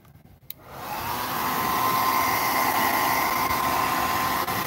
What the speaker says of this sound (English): I'm just going to dry this thing off with a blow dryer